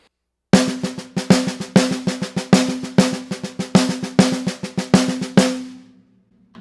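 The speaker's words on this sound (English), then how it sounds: "a beat of the regular paradiddle and a beat of the inversion" Rapid, even snare strokes alternating a beat of regular paradiddle with a beat of its inversion, accents shifting from beat to beat, close and bright, ending with a ringing final hit.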